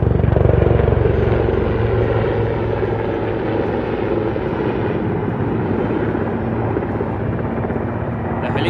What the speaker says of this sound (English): notice the helicopter as the pilot, using his superior skills, is making a deliberate approach to establish a pinpoint hover